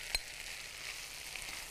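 Potatoes dropped into melted butter in a pan give a brief sharp hit followed by a steady, soft, close sizzle that carries on without talk.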